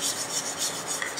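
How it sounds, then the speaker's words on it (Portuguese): Sandpaper rubbing over a cast cement sculpture to smooth away defects, a steady rasping scrape in repeated close strokes at an even rhythm, with no voices. "Eu posso usar uma lixa."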